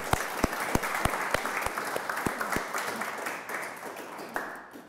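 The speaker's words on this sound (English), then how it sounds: "why don't you join me in giving them a warm round of applause" An audience at an artist talk at a college gives warm applause, a dense wash of clapping with one nearby person's sharp, evenly spaced claps standing out before the sound tapers off.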